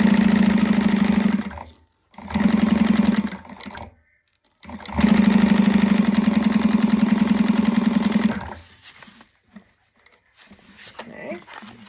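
A sewing machine stitching a canvas wristlet, running in steady humming bursts with short pauses between, close and loud, followed by quieter handling noise.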